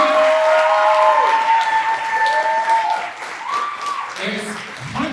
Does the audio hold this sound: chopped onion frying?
no